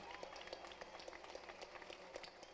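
Faint, distant applause from a crowd honouring union members at a rally with Lula da Silva, scattered clapping mixed with crowd noise and low voices, quiet and diffuse.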